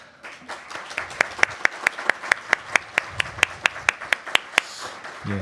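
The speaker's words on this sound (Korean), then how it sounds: "박수로 격려해 주시면 감사하겠습니다" A congregation applauds at a church deacon appointment ceremony, a steady run of roughly twenty evenly spaced, sharp claps that sounds more like a few people clapping in rhythm than a full crowd, with faint room murmur underneath.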